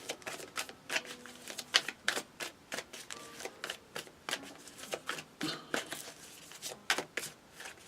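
Tarot cards being shuffled in quick, papery riffles and flicks, a dense run of crisp slaps and slides close to the microphone, with a voice murmuring at points beneath the card noise.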